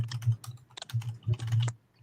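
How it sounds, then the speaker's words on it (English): Someone types fast on a computer keyboard, a close, rapid clatter of key presses in uneven bursts with brief pauses and no talking. "Typing as fast as I can."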